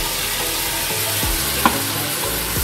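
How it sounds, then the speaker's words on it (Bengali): Spices frying with tomato paste in a pan for a dhaba-style masala paneer curry, with a loud, steady close sizzle and a single brief clink of the stirring utensil. "মশলাটাকে জাস্ট নাড়িয়ে নিয়ে এবার যে টমেটোর পেস্টটাকে করেছিলাম সেটাকে মিশিয়ে নিচ্ছে।"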